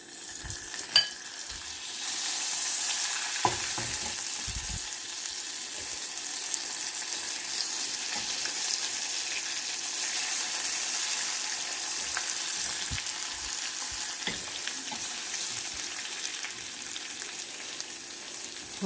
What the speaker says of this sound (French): Là, je vais ajouter 2 cuillères à soupe de beurre.